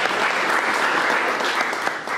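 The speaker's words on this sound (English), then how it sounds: "The round of applause for these people." Steady, dense applause from a conference audience fills the whole stretch, a close, continuous clatter of many hands with no talking over it.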